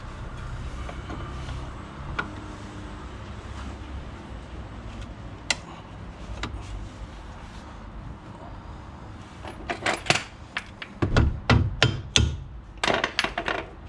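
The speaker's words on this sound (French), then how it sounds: "nous on rentre les plaquettes au marteau" Hammer blows seat new brake pads during a wheel hub replacement on a Renault Kangoo, a cluster of sharp metallic strikes arriving in the last few seconds after scattered workshop clatter and background noise.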